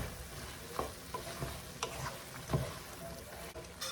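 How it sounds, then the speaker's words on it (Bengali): A spatula stirs fried chickpeas in a sizzling pan, with several scraping strokes over a steady frying hiss, close up and without talk. "একটু নেড়ে দিই।"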